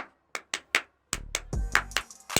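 Sharp hand claps tapping out a tempo rhythm for an arts college entrance test, a few spaced claps first, then quicker ones over a low humming tone, close and fairly loud.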